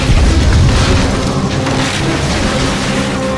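Artillery strikes in the Stalingrad city battle of Call of Duty: Finest Hour, a loud, heavy booming rumble with deep low-end roar that fills the whole stretch and slowly tapers, with no voices.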